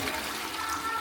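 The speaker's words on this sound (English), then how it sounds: "oh, that's not a great flush for the toilet" Hotel cottage toilet flushing, a brief continuous rush of water with a trickling quality, close and fairly loud, no talking.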